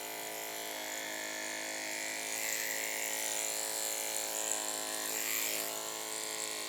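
Electric clippers buzz steadily while shaving a Miniature Schnauzer's fur at the croup, a close, even motor whine that grows a little louder partway through, with no talking.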